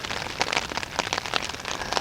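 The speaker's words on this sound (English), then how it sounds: "It's raining right now" Rain patters outdoors at a hunting camp, a dense, close hiss of drops striking surfaces with scattered sharper taps throughout, no talking.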